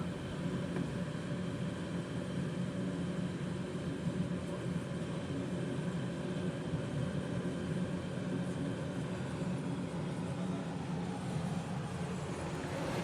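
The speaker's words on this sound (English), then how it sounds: "got into the process of starting the engines" Engines of a 19-seat Dornier 228, heard from seat 1A just behind the pilots, make a steady, even, moderately loud drone that fills the cabin without letting up, with no talking.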